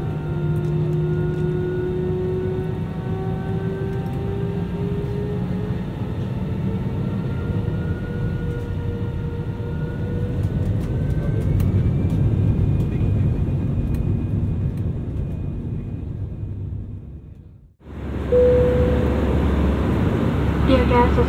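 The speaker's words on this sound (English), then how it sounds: "Cabin crew, seated for takeoff." A steady loud roar fills the cabin of an Air Asia A320-200ceo as it takes off for Penang, with rising engine tones and no break until a brief dip near the end, then the roar returns.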